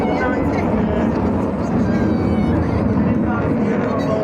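A jet with reheat engaged at an air display roars steadily through the clip, a loud, even blast close to the crowd, with a commentator talking over it.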